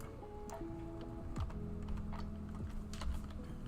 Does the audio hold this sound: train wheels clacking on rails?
no